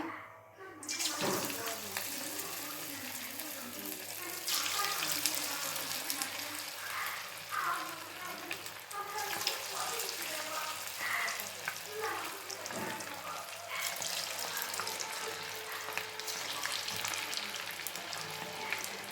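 Chicken kebab pieces frying in hot oil in a home kitchen: a continuous dense sizzle and crackle with steady bubbling throughout, fairly close.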